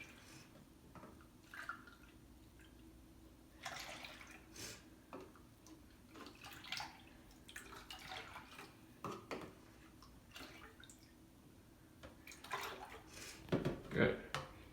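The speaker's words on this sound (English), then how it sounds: "the first step of making cream of wheat is adding 4 cups of milk or water" Milk or water being poured into a cooking pot for cream of wheat, faint splashing and trickling with light clinks of the pot under soft talk.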